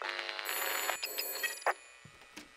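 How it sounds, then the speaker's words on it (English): A telephone rings inside a video game as a series of bright, repeated electronic bell bursts with short gaps, fairly quiet and mixed with other soft game sounds. "We're getting phone calls."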